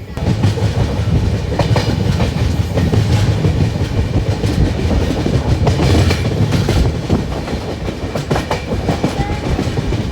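The Cholan Express passenger train rushes past at speed between Cuddalore and Mayiladuthurai, India, loud rumbling wheels with rhythmic clickety-clack, steady and close throughout, easing slightly toward the end.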